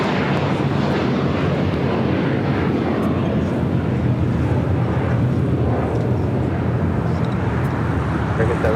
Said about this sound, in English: That was American Airlines Flight 753 heading to Atlanta